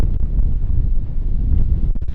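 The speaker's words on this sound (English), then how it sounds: "It's very windy." Strong wind buffets an outdoor microphone in a steady, loud low rumble with gusty swells that lasts the whole stretch, no voices over it.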